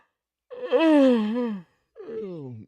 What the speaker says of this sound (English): I don't mean to yawn on air.